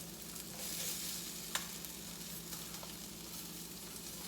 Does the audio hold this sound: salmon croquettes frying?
yes